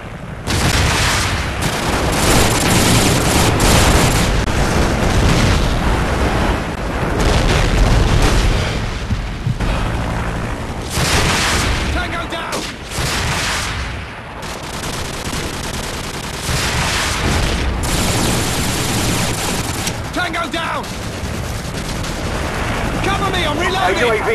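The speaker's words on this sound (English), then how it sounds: "Friendly airstrike on the way." Call of Duty battle audio with repeated airstrike explosions and heavy gunfire, dense and loud bursts and booms rolling across the whole stretch, with in-game voices calling out over it.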